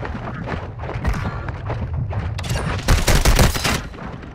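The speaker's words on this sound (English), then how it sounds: "you're shooting at me from above" Rapid bursts of video game gunfire fill the scene, steady volleys rising to a loud, dense peak toward the end.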